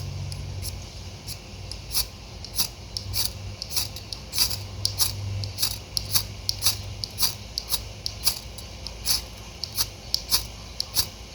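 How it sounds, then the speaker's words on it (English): A striker is scraped along a ferrocerium fire starter rod in quick, regular strokes, each a sharp rasping scratch repeating steadily over a faint background hum. "it's actually pulling off some of this striker, and that stuff lights on fire really quick"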